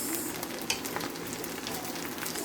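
Fried rice with vegetables sizzling steadily in a pan, a continuous close frying hiss with faint scraping stirs, no voices.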